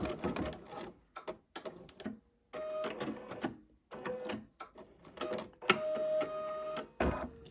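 An embroidery machine runs a basting stitch around fabric held in the hoop, giving close, loud bursts of rapid mechanical stitching broken by short pauses and clicks.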